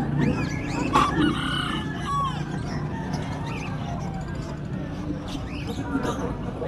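A rooster crows several times and chickens cluck at a bird and pigeon market in Angeles, Philippines. The calls are close and fairly loud, and people talk in the background throughout.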